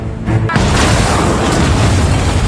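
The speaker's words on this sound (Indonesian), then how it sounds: "melemparkan bomnya yang akan meledak 10 detik setelah dilempar" A thrown homemade bomb detonates in a war film scene, a loud sudden boom after a brief quieter moment, followed by a sustained roaring rumble of the blast.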